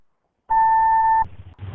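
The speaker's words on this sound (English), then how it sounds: "Please leave your name and phone number after the beep." An answering machine's recording beep, one clean steady electronic tone lasting under a second, loud and close, followed by faint line noise.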